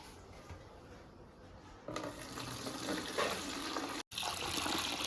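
Soaked lentils being washed under running water in a kitchen sink, a quiet steady splash and trickle that grows fuller midway, with a brief break near the end.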